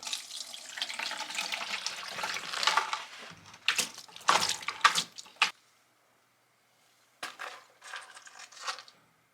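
Crushed quartz panned with water while hard rock gold mining in Wisconsin, several seconds of splashing and gritty swirling of water and rock, then pauses broken by brief shorter bursts of washing.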